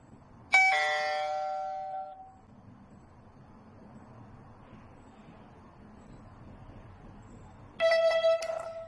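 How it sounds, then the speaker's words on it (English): A Tuya M9 video doorbell chimes after a reset: a bright electronic ding rings out clearly and fades over about a second and a half. After a quiet stretch of low background murmur, a second chime sounds. "we need to press the doorbell to wake it up"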